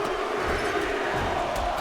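A wrestling crowd roars in a continuous, dense wash of cheering and shouting, loud and unbroken for the whole stretch.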